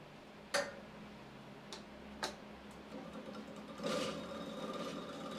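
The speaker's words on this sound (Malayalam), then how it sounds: "മെഷീൻ്റെ സഹായത്തോടു കൂടി നമ്മൾ വൈൻഡ് ചെയ്തുകൊണ്ടിരിക്കുകയാണ്." A coil winding machine spins copper wire for a BLDC fan motor, giving a faint, steady mechanical whir with a few soft clicks and ticks and no talking.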